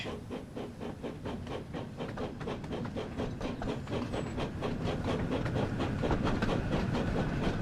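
A steam engine on the main line in the Thomas and Friends Wonders of Sodor video game rolls past with a steady, rapid clickety-clack of wheels over rail joints, growing gradually louder and continuous throughout.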